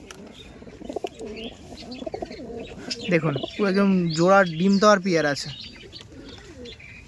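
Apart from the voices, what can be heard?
Madras pigeons cooing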